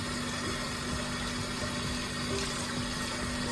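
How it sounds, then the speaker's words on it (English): Tap water runs steadily over raw tripe as it is rinsed of soil and grit, a constant close splashing hiss with a low pump-like hum underneath and no talking. "so it's best to run it under water just to get it out"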